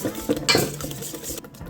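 A bowl of white chocolate being mixed into an egg yolk and cream mixture gives close scraping, clinking stirring sounds of utensil against bowl, in short irregular strokes with no voices.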